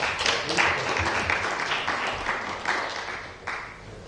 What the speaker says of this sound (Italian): Applauso ragazzi.